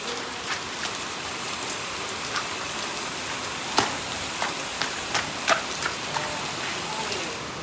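Rain falls in a steady hiss while someone bathes in it outdoors, with scattered sharper splashes and taps rising above the downpour.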